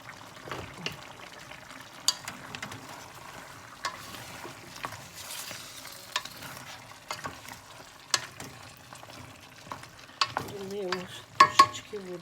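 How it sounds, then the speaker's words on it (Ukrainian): Quiet scraping and clinking of a spoon stirring food in a pan, irregular knocks against the metal with a soft sizzle beneath. "І беремо ложку вимішуємо"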